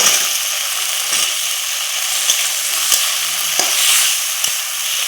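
Boiled, peeled potatoes go into a pan of fried spice masala and get stirred, giving a steady close sizzle with a few sharp scraping clicks spread through it and no voices.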